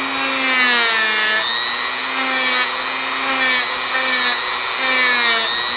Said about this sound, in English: I didn't quite finish sanding down the base of the foot here